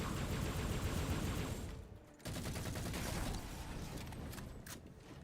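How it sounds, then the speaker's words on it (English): A plasma rifle fires in the roguelite Veil of the Witch: dense, rapid bursts of shots with a brief gap midway, then continued firing that gradually softens. "Oh, plasma rifle, baby."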